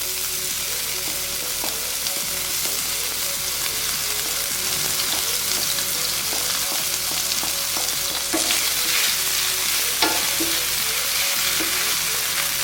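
Onions fry in a pan that has already cooked garlic, producing a dense, constant, loud sizzle up close, with occasional soft stirring clicks and no talking.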